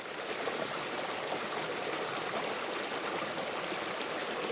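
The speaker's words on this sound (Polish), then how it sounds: "Posłuchajcie szumu." Steady murmuring stream on the bank of the Vistula, a continuous broadband rush of flowing water that stays even and close throughout, with no voices over it.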